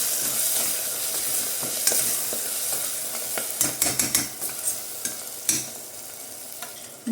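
Fenugreek leaves and mutton frying in oil in a pan, a steady close sizzle broken by scraping stirs and a cluster of sharp utensil clinks near the middle, with no voices.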